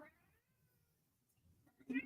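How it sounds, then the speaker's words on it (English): A house cat meowing in a kitchen, a faint low murmur then a short, louder meow near the end, fairly close, with a person's voice quietly present. "we have a cat that demands to be watched."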